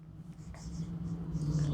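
Handwriting with a pen during a Class 10 maths lesson on cylinder surface area: soft, continuous scratching strokes over a steady low electrical hum, with no talking.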